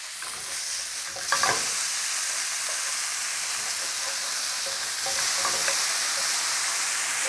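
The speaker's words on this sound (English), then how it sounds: "I just want them to fry in the juices coming out of the burgers." Onions frying on a griddle in the juices running off slider burgers, a steady close sizzle throughout with a brief scrape or stir near the start.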